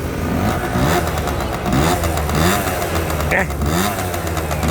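A Honda AF34 scooter engine, freshly tuned, revs as the throttle is twisted, its pitch rising and falling in repeated surges over a steady running drone, loud and close.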